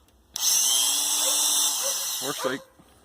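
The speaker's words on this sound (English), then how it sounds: "So we will be using this one to drill some 2 holes into here" An old electric drill boring holes while fitting gauges to a 1975 Plymouth Valiant, a steady high-pitched whine running close and loud for about two seconds before spinning down to a stop.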